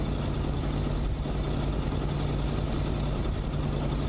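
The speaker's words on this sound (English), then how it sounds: "God damn, this the truck's so loud." Truck engine running in a video game, a steady loud low drone with a humming idle tone, continuous and unchanging with no talk.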